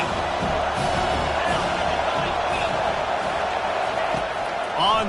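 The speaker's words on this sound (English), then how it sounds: "This crowd knows when to bring it." Football stadium crowd roaring during a night game, a dense, loud wash of cheering and whooping that holds steady for several seconds and swells slightly near the end.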